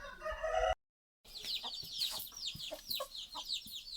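Domestic chickens at a rural home cluck in a busy flock, with a rooster crowing nearby; rapid overlapping calls continue close and fairly loud after a brief dropout.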